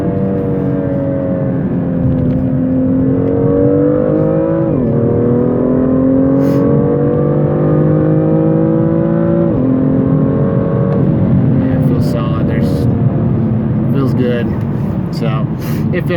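BMW M2 fitted with a K&N air filter pulls hard on a highway, engine drone rising steadily through two gear shifts, heard from inside the cabin.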